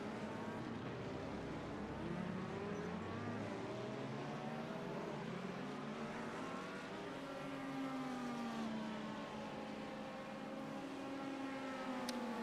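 Race cars in a World Challenge round at Long Beach brake and downshift into the hairpin, several engines overlapping as a steady, moderately distant roar with rising and falling pitch throughout.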